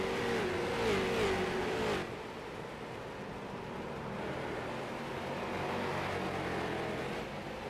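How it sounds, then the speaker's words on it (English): Race cars at Irwindale come flying past a trackside wall camera, one loud engine note swelling near and then dropping away into a steady, fainter roar of the field continuing around the track. "So you hear these guys come flying by our wall camera"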